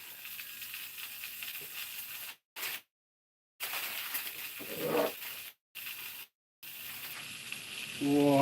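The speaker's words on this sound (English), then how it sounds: "Oh, you gotta love that sizzle." Steady hissing sizzle of a burger patty frying on a hot grill, interrupted by brief gaps, with a short voice near the end.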